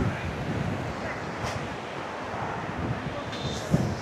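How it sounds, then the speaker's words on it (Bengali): Ocean surf rolls in at Kuakata beach, a broad wash of waves mixed with gusty wind buffeting the microphone, steady and moderately loud with a brief bump near the end. "সেই এটা ঢেউ আসতে আছে"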